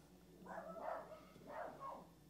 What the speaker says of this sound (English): and now the dog's barking.